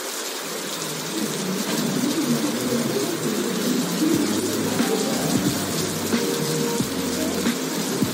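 Steady rain hiss forming part of a layered ambient sound mix, a continuous wash of falling rain with bird coos and low tones underneath, even and moderately loud throughout.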